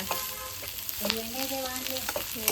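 Ingredients roasting in oil in a pan for a mutton keema and egg bhurji meal, a steady sizzle with scraping stir strokes and clinks, close and moderately loud, with faint background voice tones.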